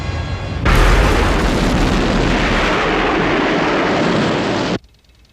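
A huge, roaring explosion erupts after a brief quiet lead-in in a Thunderbirds puppet adventure, a loud sustained blast-and-rumble that holds steady for about four seconds before cutting off abruptly.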